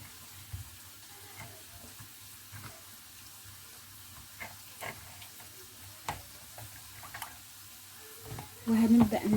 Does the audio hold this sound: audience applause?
no